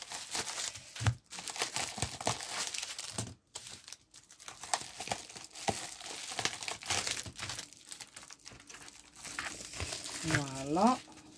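Plastic wrapping on a mail-order package crinkles and tears as it is pulled open, close and fairly loud in bursts throughout, with a person talking over the rustling.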